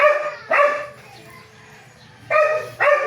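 A dog, called Batatal, gives two pairs of sharp, close barks separated by a quiet pause filled with faint low rumbling.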